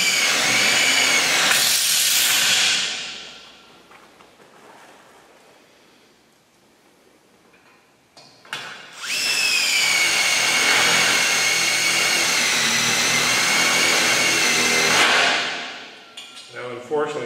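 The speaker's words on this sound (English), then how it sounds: "we're going to take our 1 inch long tech screws. We're going to fire a couple in." Power drill firing one-inch tech screws into steel splice sleeves while building a glider bench; two loud, sustained whining bursts of driving with a quiet pause between them, close up.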